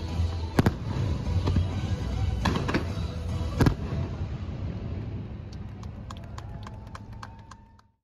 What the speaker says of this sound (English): right as the fireworks were starting